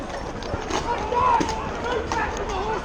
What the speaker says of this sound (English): Move back from the horses, they will kick you, they will hurt you